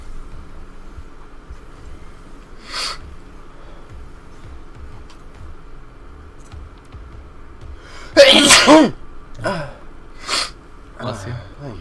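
One sudden, loud sneeze bursts out partway through, with quiet talking before and after it.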